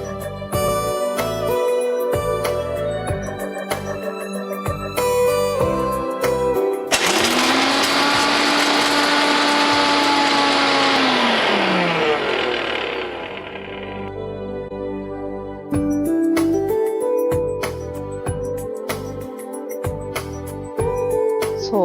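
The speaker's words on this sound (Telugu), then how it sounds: "సో ఫస్ట్ ఇది మిక్సీ పట్టేసుకొని ఇందులోనే మనం ఫ్రూట్ కూడా యాడ్ చేద్దాము" A mixer grinder pulverizes walnuts and almonds into powder, a loud high whine lasting about six seconds that then winds down in pitch, with music before and after.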